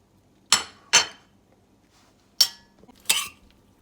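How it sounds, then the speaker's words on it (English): A spoon clinks against a bowl while mixing mac and cheese ingredients, including cooked salted pasta and a little grated carrot: four sharp, close knocks in two pairs with quiet gaps between, and no talking. "we're gonna mix in all our ingredients"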